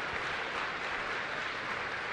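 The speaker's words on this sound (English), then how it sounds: "the most palpable rhythm is that of the crowd clapping" A large arena crowd claps steadily and densely at a karate kata final, the World Games 2017 male kata final. The applause sounds close and continuous.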